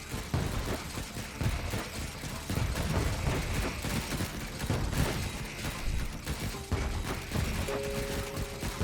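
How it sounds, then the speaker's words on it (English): Defensive turrets fire in Stranded: Alien Dawn, a loud, continuous stream of rapid gunfire and thumping impacts layered with explosions and mechanical noise, with no talking. "I love it when the turrets engage, man."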